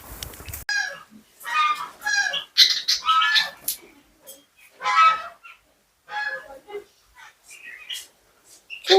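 Honking, clucking bird calls near Gir forest come in repeated bursts, loud and close with short pauses between them, and no other sounds compete with them.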